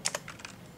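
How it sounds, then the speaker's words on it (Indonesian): A few quick, faint keystrokes on a computer keyboard while a MySQL query is typed, irregular taps alone in a quiet room. "Kita ketikkan select user"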